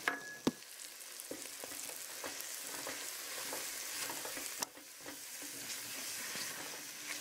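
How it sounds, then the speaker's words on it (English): Flour being stirred into dark caramelized onions in a pot, a steady scraping and soft sizzle with scattered clicks of the spoon against the pot, with no voices. "add 2 tablespoons of flour and stir to mix well"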